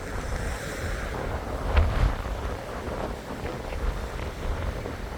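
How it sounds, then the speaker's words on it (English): Tidal water rushing upstream on a river by a historic market town, a loud, continuous roar of moving water with heavy wind buffeting the microphone and a brief surge near the middle. "look at the speed of the water coming in"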